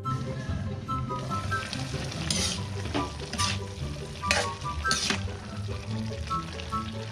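Bottle gourd (upo) simmering in a pot gives a steady, close bubbling sizzle with scattered pops and small splashes throughout.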